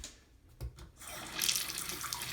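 A short burst of steady running water from an indoor waterfall fountain, splashing and hissing, begins after a few faint knocks.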